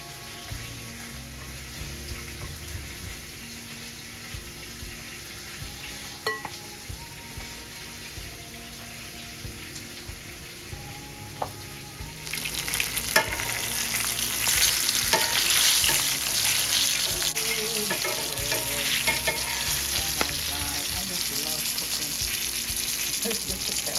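A fish head drops into a deep fryer, and a quiet kitchen bursts into loud, continuous bubbling and hissing oil that holds steady to the end.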